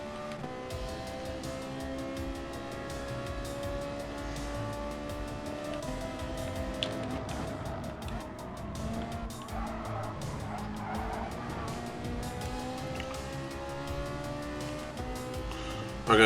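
Ferrari race car in a GT racing video game, engine droning steadily with layered tonal revs and tire skidding throughout, loud and continuous with no talking.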